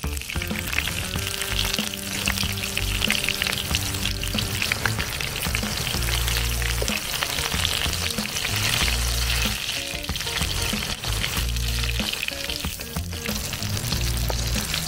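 Eggplant slices fry in hot oil in a pan for a simple Filipino breakfast, giving a steady, loud, close sizzle that runs unbroken throughout, with a low tonal backing underneath and no talking.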